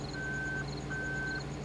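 Reversing beeps from a vehicle in the video game Farming Simulator 2013 sound as two long steady electronic tones over a constant low engine drone, fairly faint in the mix.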